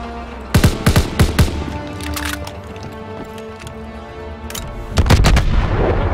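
Gunfire in the World War II shooter game Call of Duty WWII: a quick cluster of four loud, sharp shots near the start, a few lighter pops, then another burst of heavy blasts over a rumbling battlefield bed.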